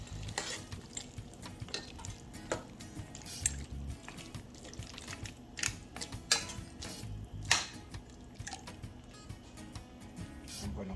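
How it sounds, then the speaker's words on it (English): A spoon stirs coconut milk into stew peas in a pot, giving repeated soft scraping and sloshing strokes with a gentle simmering sizzle underneath, close and fairly quiet. "and I'm going to stir."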